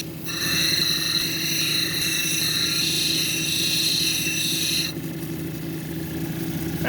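Very hard petrified wood cabochon ground on a nearly new 220 grit lapidary wheel, a loud steady whine with a high grinding tone that cuts off near five seconds, leaving the wheel's motor droning alone.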